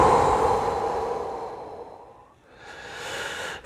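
One long, slow, audible exhale fades to a brief pause, followed by a deep, drawn-in breath, close and alone during a calming deep-breathing exercise.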